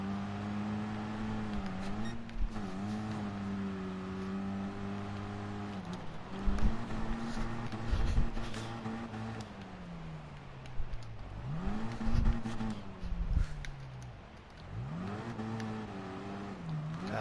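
A Suzuki Swift Sport engine in a PS4 racing game revs and drones steadily, its pitch climbing and dropping with repeated gear shifts over a long stretch, moderately quiet throughout.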